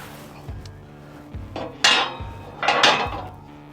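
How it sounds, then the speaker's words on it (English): A metal skid plate for a third-generation Tacoma is handled and positioned, with several hard metallic clanks and scrapes at irregular intervals, fairly close. "taking the bottom skid plate here,"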